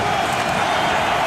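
A football stadium crowd at an NFL game between the Panthers and Giants in 2008 gives off a loud, sustained roar of cheering and scattered clapping, with no break in the noise.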